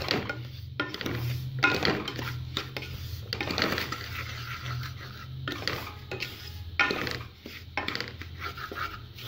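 Semolina being dry-roasted with grated coconut in a pan on the stove for a semolina barfi, with steady scraping and stirring scrapes and light clinks of a spoon against the pan, close and fairly even throughout.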